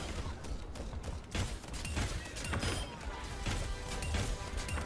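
Gunfire in Overwatch, shots fired while testing headshots, likely against a Torbjorn turret: repeated sharp cracks and impacts in an irregular rhythm over busy game noise, loud and close.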